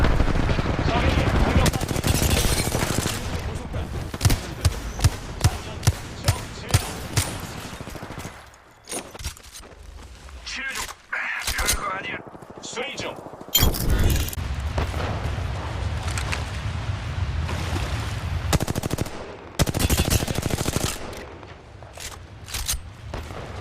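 Apex Legends gunfire comes in rapid automatic bursts and single sharp shots, loud and close, with dense volleys broken by brief lulls. A voice talks over the combat.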